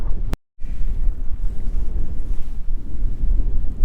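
Strong wind gusts roar across the microphone outdoors in a gully in the Australian bush, a loud buffeting rumble that swells and eases continuously after a brief dropout near the start.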